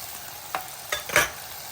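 Coriander-cumin powder goes into potatoes frying in a pan: a faint background sizzle with three brief stirring scrapes rising near the end, close and without speech.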